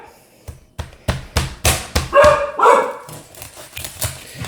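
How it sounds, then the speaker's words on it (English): A dog barks in a home kitchen, a run of about a dozen sharp, close barks in a steady rhythm, rising in force through the middle and then easing off. "It always helps to have a guard dog around too"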